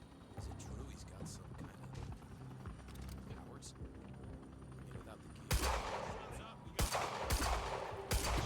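Sniper gunfire in the video game Quantum Break, a few sharp loud shots cracking out near the end after a stretch of quieter in-game rumble, with a voice talking over the scene.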